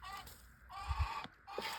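Low, throaty vocalizations from a black Cochin or black Brahma rooster, a few brief rumbling calls with soft harmonic tones, close by and fairly quiet, with no talking.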